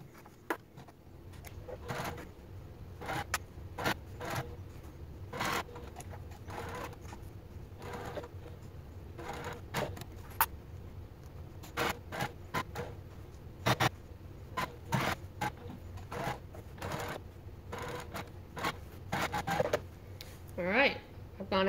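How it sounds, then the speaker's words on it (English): A sewing machine stitches a crossover bag, its motor whirring in short bursts separated by brief pauses, with repeated clicks and knocks from handling the fabric close to the microphone. "I'm going to go ahead and begin sewing"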